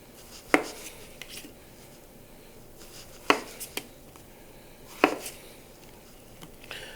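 Knife chopping garden tomatoes into large pieces on a board, three sharp, distinct cuts spaced a couple of seconds apart with lighter taps between, quiet and close.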